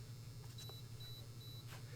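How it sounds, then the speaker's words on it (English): A Schlage FE575 electronic access control keypad lock gives three short, thin, high beeps spaced evenly apart, faint over a steady low hum. "3 orange lights, 3 beeps"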